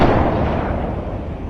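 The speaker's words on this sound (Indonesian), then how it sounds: "terdengar suara tembakan dari arah belakang" A gunshot from the horror film The Boy Behind the Door sounds as a loud, booming blast with a rumbling, reverberant tail that fades over a second and a half, with no voices.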